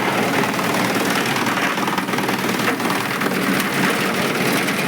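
An electric chaff cutter runs steadily at full volume, a continuous dense mechanical roar and clatter with no pauses throughout.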